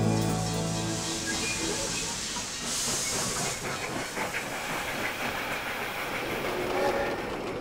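A train runs on rails with a loud, continuous rushing hiss, like steam, and a rolling clatter underneath, steady and close throughout.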